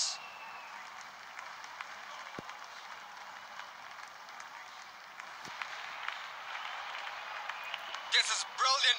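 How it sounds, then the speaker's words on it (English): Crowd at a cricket stadium during an Australia vs Sri Lanka T20 match, a steady wash of cheering and applause held at a distant, moderate level throughout, swelling into louder bursts near the end. "They are making some serious noise."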